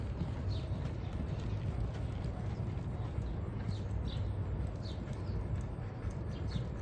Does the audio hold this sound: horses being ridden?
yes